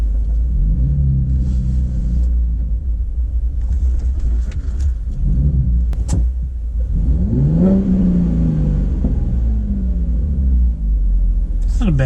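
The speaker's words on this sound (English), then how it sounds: "It's not a bad sounding 6-cylinder" A six-cylinder car revving on wet streets, with a close rumbling engine that rises and falls through a few throttle blips, heard alone without speech.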